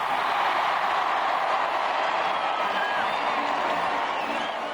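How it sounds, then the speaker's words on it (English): A huge crowd roars outside Buckingham Palace at a royal wedding, a dense sustained wall of cheering and shouting from thousands, loud and unbroken throughout. "Again, the crowd roared its request."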